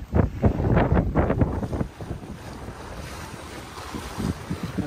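A sailboat under sail in about 15 knots of crosswind off the Greek islands near Rhodes, engine off: steady broadband wind rush and water noise across the microphone, with louder buffeting gusts in the first two seconds.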